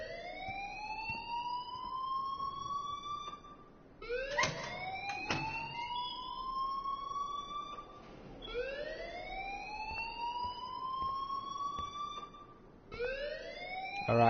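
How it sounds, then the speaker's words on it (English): Alarm in the video game Life is Strange wailing in repeated rising sweeps, each climbing then cutting off, about four cycles in a steady loop, loud and close with no voices. "please turn off that alarm since that's your job"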